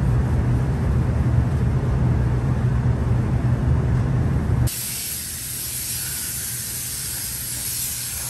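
A spray gun hisses steadily while laying sealer inside the cab of a Chevy C10 truck, loud and continuous, its tone shifting partway through as the spray pattern or position changes.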